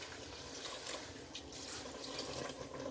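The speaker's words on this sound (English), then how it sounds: "So I'm going to add my water." Water pours steadily from a tap into a pot of sweet potatoes, a continuous soft rushing and trickling, fairly quiet and close, with no speech.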